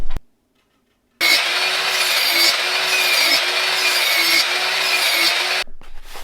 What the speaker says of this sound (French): je vais couper toutes mes lambourdes à la scie circulaire